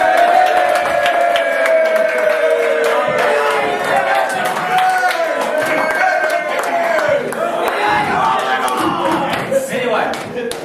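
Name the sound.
audience applause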